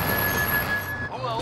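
A truck in Call of Duty: Modern Warfare rumbles close by for a brief moment, a low engine drone under a thin, steady high tone that cuts off near the end.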